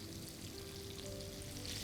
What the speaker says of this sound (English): Like I said, just lightly fry the fish.